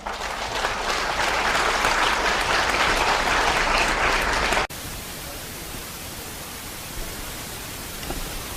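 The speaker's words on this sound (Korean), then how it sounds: "우리 이덕일 선생을 우리 열렬히 이제 박수로 맞이합시다." A lecture audience warmly claps to welcome historian Lee Deok-il, dense steady applause for several seconds that cuts off abruptly, leaving faint room hiss.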